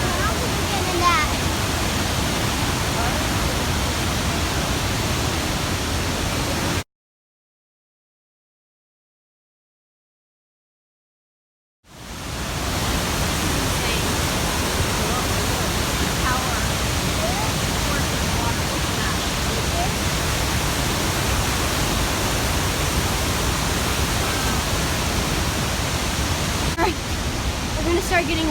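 A massive waterfall roars as a steady, dense wash of rushing water close by, broken by a few seconds of silence before the roar returns, with voices talking faintly over it.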